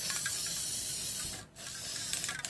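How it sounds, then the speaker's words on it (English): Metallic spray paint hisses from a can onto 3D printed Mandalorian gauntlets, a close, steady hiss with one brief pause, then a few short sputtering bursts. "Again, you just spray"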